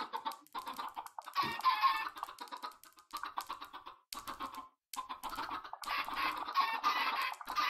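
Minecraft chickens cluck in repeated bursts with short pauses between them, fairly close and lively, with no voices over them.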